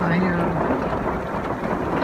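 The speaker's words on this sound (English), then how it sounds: "It's raining pretty hard" Heavy rain drums on a van, a dense, steady roar of water on the roof and body that fills the whole clip at close range.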